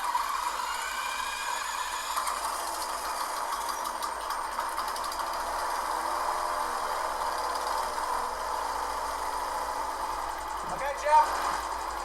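An engine runs steadily during an electromagnetic pulse generator test aimed at disabling it, a constant droning hum close by, with a brief sharp click near the end and people talking over it.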